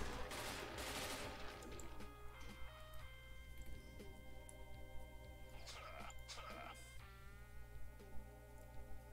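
Rapid gunfire from an overpowered weapon in the Doom video game, steady bursts running throughout over constant game music and ambient hum.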